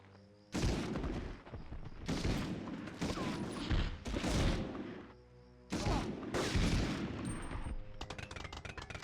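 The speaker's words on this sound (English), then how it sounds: "Oh, they can actually throw grenades now." Grenade explosions and bursts of gunfire in a PS1 war video game, several loud booming blasts and rapid firing in clusters separated by brief lulls, with no talking.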